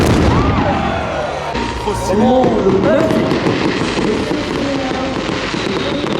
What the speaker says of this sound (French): un beau feu d'artifice avec écrit en gros 4L Trophy